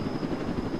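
A default helicopter in the Roblox game Jailbreak gives a steady, close rotor drone with an even low rumble and a faint high whine running through the whole short moment.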